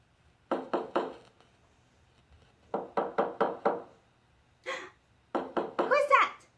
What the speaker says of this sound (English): Someone is knocking the door.